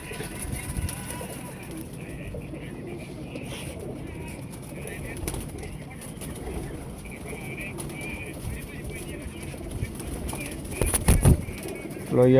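Pigeons coo softly in a loft, their low calls mixed with faint background clatter, and voices speak intermittently nearby.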